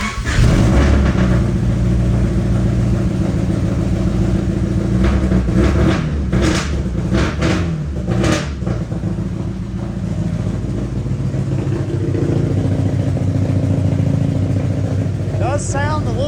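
A Honda Civic with a swapped H23A engine runs after a spark plug change, its engine loud and close with an uneven idle and a few sharp knocks or clunks midway; a person speaks over it.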